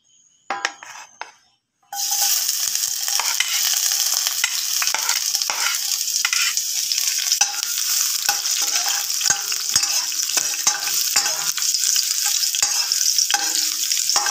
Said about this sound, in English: we mix it carefully so that the garlic will be golden brown